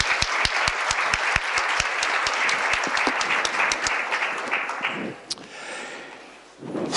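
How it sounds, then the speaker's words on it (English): Audience applause at a design talk builds into a steady, full wash of clapping with a few distinct close claps on top. It then thins and fades toward the end. "And we'll give them an applause."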